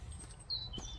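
Birds chirp outdoors along a countryside hiking trail near a medieval area, a few thin high calls rising over steady low wind rumble, fairly faint and distant with no talking.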